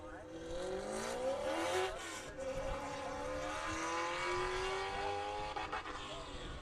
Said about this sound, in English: Pops the rev limiter as she nears the end of the straightaway.